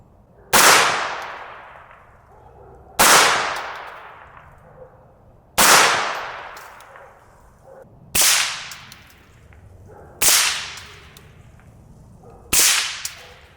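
Six sharp suppressed 17 HMR rifle shots from a Volquartsen VT2 fitted with a Banish 22 suppressor crack at steady intervals of about two and a half seconds, each with a short decaying echo, with no talking.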